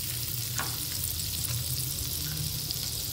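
A tablespoon of unsalted butter sizzles in a hot pan, making a continuous close frying hiss with soft bubbling pops and faint stirring, and no voices.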